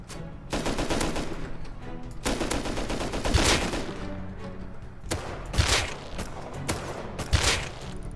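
Automatic gunfire in the video game Rust, rapid loud bursts of shots in several volleys with brief gaps, close and dense.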